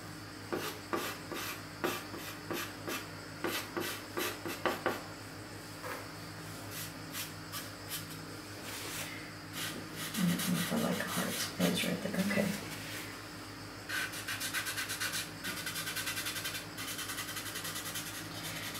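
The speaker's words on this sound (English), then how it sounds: "when you rub a lot like this onto a sandpaper" Fingers rubbing pastel onto sandpaper, a series of short dry scratchy strokes in quick rhythm, pausing, then longer denser rasping passes near the microphone.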